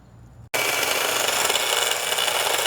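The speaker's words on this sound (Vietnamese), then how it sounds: "Có cây cưa này đỡ quá." A hand saw cuts through a long wooden pole about five metres long, its steady rasping strokes starting abruptly after a brief pause and continuing close and loud with no talk over them.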